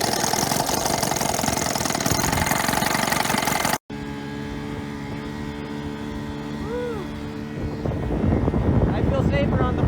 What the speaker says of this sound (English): That's one happy motor now.